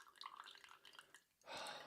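A person on a podcast imitates water dripping with mouth-made plinks, heard as a faint, quick run of small taps that ends in a sudden burst of hiss.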